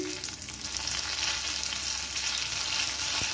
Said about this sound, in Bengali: এবার দিয়ে দিলাম গরম মশলাগুলো, এগুলো ভাজা হয়ে গেছে।